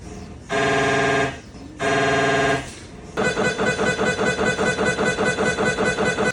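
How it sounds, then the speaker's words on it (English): An MRI scanner operates in its room: two loud sustained buzzing tones, each about a second long and separated by short gaps, then a rapid, rhythmic pulsing drone, close and loud with no talking. "An MRI room looks like this, and it sounds like this."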